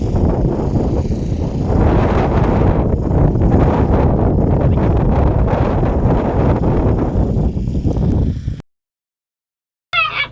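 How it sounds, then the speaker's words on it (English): Loud, continuous rumbling wind buffeting the microphone for several seconds, cutting to silence briefly before another gust bursts in. "Sorry about the wind."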